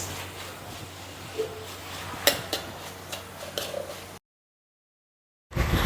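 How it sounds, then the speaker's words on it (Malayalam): Beef stir-fried in a pan at home, with a utensil clinking and scraping against the metal over a soft background hiss, a few sharper knocks, then a brief silence before a loud burst of noise returns. "നമുക്ക് ബീഫ് ഉലത്താം ഗൈസ്."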